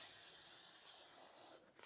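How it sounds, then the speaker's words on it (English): L'Oreal setting spray misted from a bottle, one steady hissing burst lasting about a second and a half at close range, ending abruptly. "And then we're gonna get this setting spray, L'Oreal setting spray."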